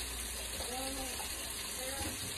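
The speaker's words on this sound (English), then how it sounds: "Let me turn this water off." A kitchen tap runs in a steady broadband rush throughout, with faint voices and clinks in the background of a home kitchen.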